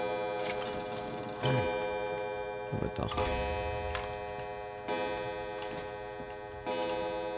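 A pendulum clock in the video game Resident Evil 7 ticks in a steady, even rhythm under a droning background ambience, with a few short bursts of game sound effects and a brief spoken exclamation in French.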